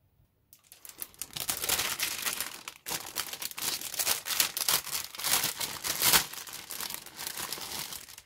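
Resealable plastic bags of parts from a Kinetic 1/48 AV-8A Harrier model kit crinkle and rustle continuously up close for several seconds, with a brief pause midway.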